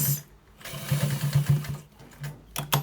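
Sewing machine stitching a white trouser, running in short whirring bursts with a steady buzzing hum, pausing briefly between runs, close and moderately loud.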